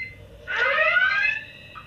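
A reality show buzzer sounds once, a bright electronic tone lasting about a second over a quiet background.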